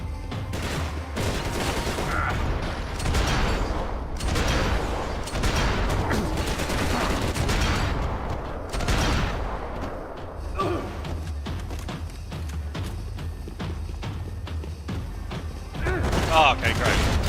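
Assault sniper rifle fire in a shooter video game pops in repeated sharp shots and bursts throughout, loud and close over a dense rumbling background with occasional thuds.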